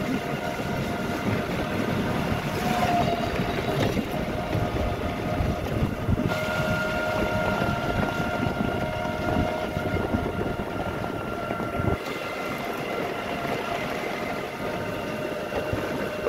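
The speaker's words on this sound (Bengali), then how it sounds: "প্রচন্ড বৃষ্টি হচ্ছে" Heavy rain pours outdoors among rows of trees at a fruit orchard, a loud, steady broadband roar throughout with no talking.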